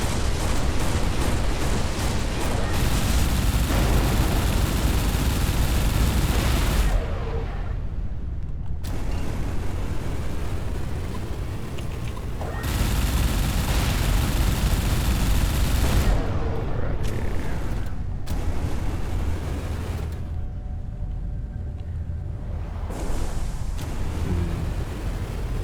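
Flak cannon in the space shooter Everspace 2, fired in long rattling bursts of heavy rapid blasts, separated by short quiet gaps, loud and close.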